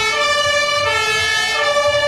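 Fire truck sirens wail loudly and close at hand during a Three Kings parade in Vigo, a steady, continuous tone with no voices over it.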